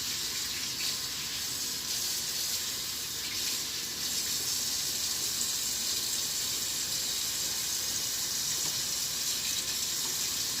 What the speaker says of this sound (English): I'm just going to rinse some of this mixture off my fingers